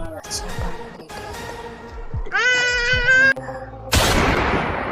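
A single loud gunshot bursts out after voices and a bright tonal jingle, its blast lingering as a hiss.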